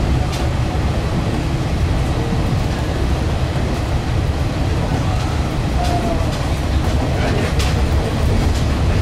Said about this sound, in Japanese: 接続列車上越本線、またこのディーゼルカーかって感じですけどね